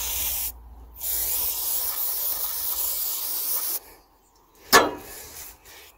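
A squirt of fluid sprayed near an engine's filter box, a steady close hiss lasting about three seconds, followed by a short sharp clack and quieter handling noises.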